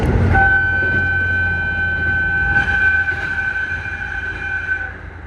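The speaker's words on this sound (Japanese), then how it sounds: "警笛の音がたまらん。" A local Hokkaido passenger train runs through a tunnel with a steady, loud rolling roar while its horn sounds a long sustained two-tone blast that fades toward the end.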